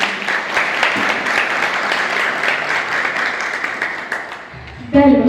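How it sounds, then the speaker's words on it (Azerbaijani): An audience claps steadily at a book presentation for the art-studies book "Bayati-Shiraz" by Ruslan Tağıyev. The dense applause holds for about five seconds, then thins out before a brief louder sound at the very end. "Xahiş edirəm, onları bir alqışlayın."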